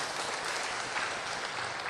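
Audience applause at a talk on giving and generosity, a dense steady wash of many hands clapping throughout, fairly loud and alone.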